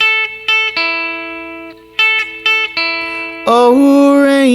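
Electric guitar with a B-bender playing a short lead lick from a song, crisp picked notes with bends, then a brighter sustained chord-like swell near the end, close and alone.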